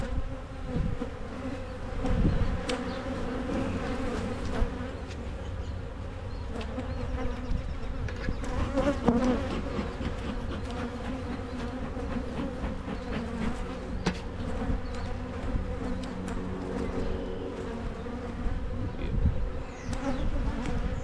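Honey bees swarm around a beekeeper working an open hive, a dense continuous buzz with individual bees zipping close past the ear, occasional handling knocks beneath, and no talking.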